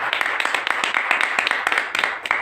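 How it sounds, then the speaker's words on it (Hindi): Dense, steady applause from an audience at an evening Hindi literary gathering, many hands clapping at once with sharp individual claps standing out, fairly close and continuous throughout. "तो एक बार जोरदार तालियां इनके लिए।"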